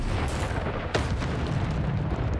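A blasting spell explodes in the Hogwarts Legacy video game, a deep rumbling boom with a sharp crack near the middle, loud and close over a heavy low roar.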